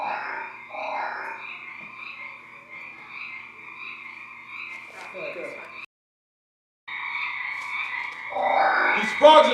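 Frogs croak in a steady chorus of rasping, repeated calls. A short silent gap breaks it, then the croaking returns alongside a rising burst of noise near the end, all close and clear.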